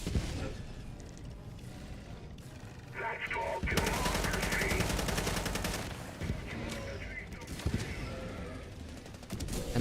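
Dense gunfire and explosions from a Battlefield-style multiplayer shooter game: sustained rattling automatic fire and booming blasts, loud and continuous across the clip, with no clear talk over it.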